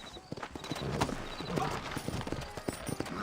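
Horse hooves clip-clop at a steady trotting pace in Red Dead Redemption, fairly quiet, with faint background sounds mixed in.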